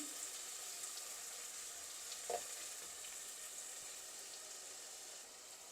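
Onion, green chilli, curry leaves and garlic sauté in a pan for a crab masala, giving a steady low sizzle with one brief scrape of stirring partway through and no talking.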